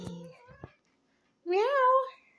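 A tortoiseshell cat gives one clear, rising-and-falling meow close by, after a person briefly speaks softly and a short pause.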